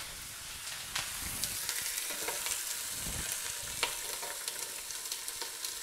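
Goat chops sear in a hot pan, a continuous close crackling sizzle with scattered pops and light stirring movement and no voices.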